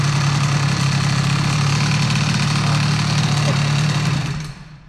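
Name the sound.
Stage6 MK2 air-cooled engine idling after throttle blip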